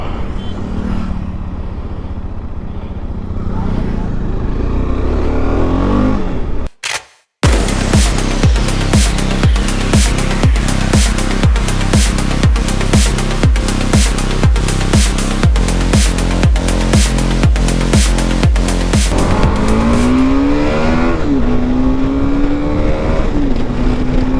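A motorcycle engine revs hard like a race bike, loud and close, with a brief cutout then rapid repeated throttle blips and a rising, falling exhaust note.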